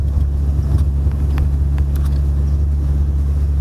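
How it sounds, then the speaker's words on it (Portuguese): A car engine drones steadily from inside the cabin, a constant low rumble that holds close and even throughout, with no clear rise in pitch and no talking. "quanto mais você pisa, mais a rotação vai subindo"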